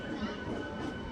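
Hubli–Guntakal MEMU train running along the line, a steady broadband rumble and rattle of the carriage, moderately loud and continuous with no speech over it.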